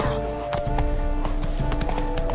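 Hooves clip-clop steadily as a horse gallops in The Witcher 3 Blood and Wine, a rapid rhythmic beat running the whole way through over a continuous background of game music.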